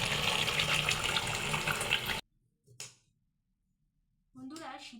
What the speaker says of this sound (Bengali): এবার আমি সবজিগুলো জলে ভালো করে ধুয়ে নেব।